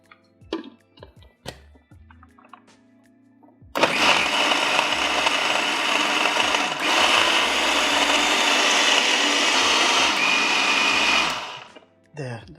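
A kitchen blender blitzes chocolate hummus with a few ice cubes, roaring steadily for about eight seconds with a rattling grind, framed by quieter clinks and handling noises before and after.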